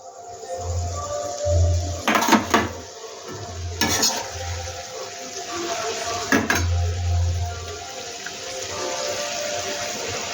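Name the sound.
eggs being added to the curry in the pan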